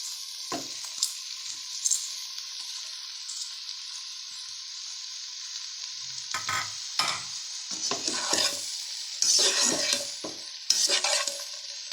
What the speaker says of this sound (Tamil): நம்ம இப்போது நான் அந்த பாஸ்தாவை சேர்க்குறேன்.